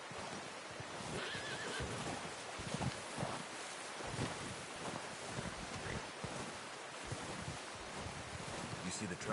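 A horse whinnies in the Red Dead Redemption 2 video game, with hooves clopping under wind and surf-like ambience in an outdoor scene, while voices talk over it.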